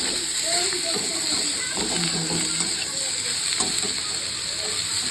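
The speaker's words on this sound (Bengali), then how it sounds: "হালকা করে একটু এই ভেজে নেব, এই জাস্ট হালকা করে এই ভেজে নিলাম" Spinach leaves lightly frying in a pan with dal, giving a steady soft sizzle and hiss that runs the whole time, with a voice faintly present beneath it.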